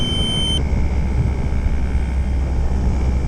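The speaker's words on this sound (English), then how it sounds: "I think this might be a real emergency landing. See that? That's full throttle and it's draining." An RC T-28 Trojan model airplane coming in on an emergency landing at full throttle, its engine a steady, loud, unbroken drone that stays close throughout.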